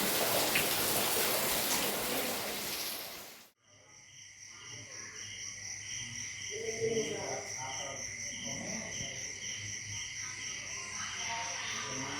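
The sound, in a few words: rain falling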